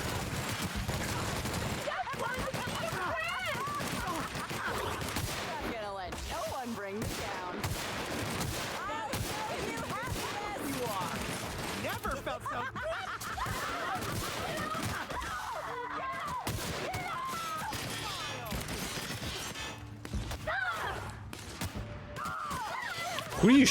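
Gunfire rattles through a firefight in The Outer Worlds. Bursts of shots and rapid volleys go on throughout at moderate loudness, with voices talking over parts of it.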